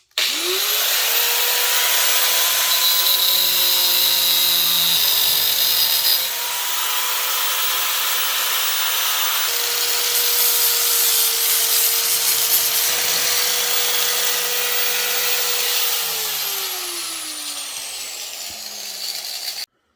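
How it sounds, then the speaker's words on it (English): Angle grinder with a cut-off disc cutting through and rounding the edges of a part for a Noco lithium battery install on a Polaris Matryx Indy VR1 snowmobile, a loud continuous whining grind with pitch shifts, close and alone. "So I'm just going to take a zip disc on my grinder and nip that off and maybe round up the edges a little bit"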